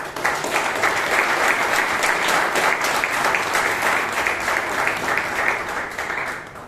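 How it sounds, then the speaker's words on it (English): A Toastmasters meeting audience in Bangalore breaks into a steady, full round of applause, dense and even throughout at close range, fading slightly at the end. "give them all a huge round of applause"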